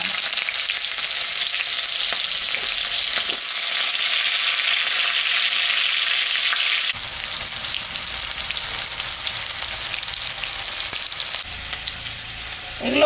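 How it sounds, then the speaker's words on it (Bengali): Mixed vegetables frying in hot mustard oil for a home-style khichuri, a loud, steady broadband sizzle throughout with a brief drop and resettling midway, no voices. "সর্ষের তেল, তেলটা গরম হয়ে গেছে, আমি এখন সবজিটা দিলাম।"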